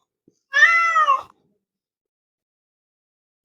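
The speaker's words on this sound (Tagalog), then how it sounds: "galit yung pusa" An angry cat lets out one drawn-out, harmonic meow, close and clear against silence, followed near the end by the start of another.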